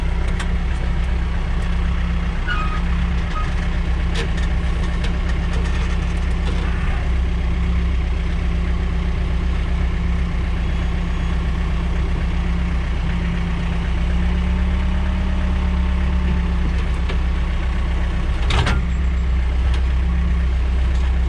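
A John Deere 4066R compact tractor engine idles steadily and close by, a constant low diesel rumble with a few faint clicks and clanks over it, and no talking.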